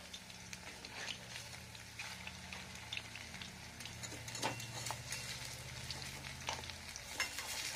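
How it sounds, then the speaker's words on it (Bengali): Beetroot vegetable fritters with potato, coriander leaves, capsicum and green chilli fry in a frying pan, a quiet, steady sizzle dotted with small crackles and bubbling pops. "এগুলো ফ্রাই প্যানে ভালো হয়, কড়াইয়ে না বড়া ভাজা খুব অসুবিধা হয়ে যায়"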